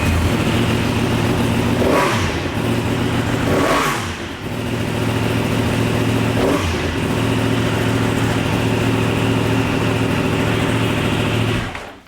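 A loud 2015+ Yamaha YZF-R1 motorcycle engine fitted with an Arrow Indy Race cat-eliminator exhaust revs hard in a few sharp bursts over a steady rumbling idle, with a harsh, aggressive exhaust tone, then cuts off at the end.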